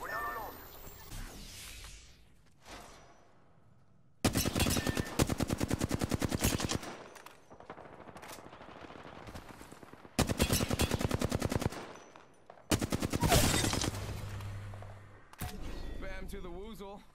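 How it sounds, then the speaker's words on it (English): Video game gunfire in a team shooter match: several long, loud bursts of rapid automatic fire, with single cracks and other game noise in between. "Getting shot at."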